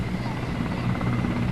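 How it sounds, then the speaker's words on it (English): Mi-8 helicopters pass overhead during a Republic Day parade, a steady low rotor throb and engine drone filling the air, loud and continuous. "There they come. The Mi-8 helicopters"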